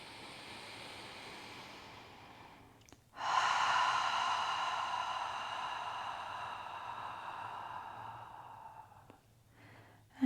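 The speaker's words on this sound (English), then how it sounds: "inhaling through the nose and exhaling through the mouth. One more time, so nice long exhale here." A long, breathy exhale through the mouth during a yoga breathing exercise, loud and close, rising suddenly after a short pause and slowly tapering over about seven seconds before a brief quiet gap.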